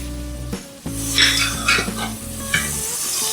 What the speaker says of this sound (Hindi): इसको तकरीबन हम आधा मिनट के लिए फ्राई करेंगे ताकि मिर्चों का फ्लेवर इसके अंदर आ जाए अच्छी तरह